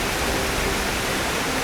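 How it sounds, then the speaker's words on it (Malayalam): A large waterfall near the Kensenhütte hiking trail roars as a dense, continuous broadband rush of falling water, loud and close, with no voices. "അത്യാവശ്യം നല്ല വലിയ വെള്ളച്ചാട്ടമാണ്."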